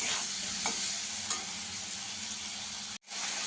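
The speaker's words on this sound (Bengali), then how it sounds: "ভালো করে একটু কষিয়ে নেব।" Spices and turmeric sautéing in a pan for aloo dum, a loud continuous sizzle with faint stirring scrapes, briefly cutting out near the end before resuming.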